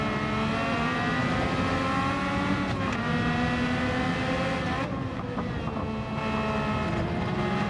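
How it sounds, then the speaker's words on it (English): Several Honda RA272 race car engines in Gran Turismo 7 drone together in a lobby race, a dense, steady high-pitched whine with shifting harmonics as cars accelerate and brake close by, continuous and loud throughout. "you end up listening to the engine of the car in front for the braking"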